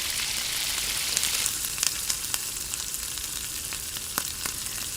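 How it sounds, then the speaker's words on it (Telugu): Chicken frying in oil with chilli powder and chicken masala for chilli chicken, a steady close sizzle with scattered sharp pops and crackles throughout. "కొంచెం కారం అండ్ చికెన్ మసాలా కొంచెం వేసుకొని బాగా ఫ్రై చేసుకోవాలి"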